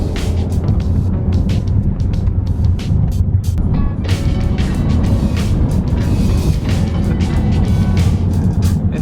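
A Mazda Miata ND drives along a road, its engine and tyre roar a steady, loud, continuous rumble heard from inside with no talking.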